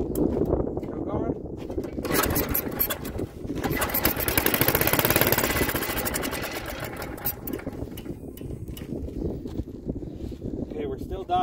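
A Troy-Bilt rototiller engine cranks and sputters while trying to start after ether and choke, a rough, continuous mechanical churn rising and falling over several seconds, close to the microphone with wind noise.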